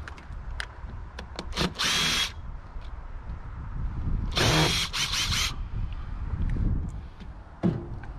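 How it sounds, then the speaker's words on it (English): A handheld power screwdriver whirs in two sustained bursts of roughly a second each, with clicks, rattles and handling noise of screws and parts in between, close and fairly loud. "Let's get the screwdriver."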